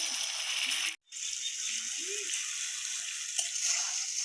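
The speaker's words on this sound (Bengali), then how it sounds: "মশলাটা ভাজা আমার হয়ে গেছে" A ground spice paste sizzles and crackles steadily in hot oil in a home kitchen while liver bhuna is being cooked. The frying is briefly cut off near the one-second mark and then continues with soft scraping and stirring.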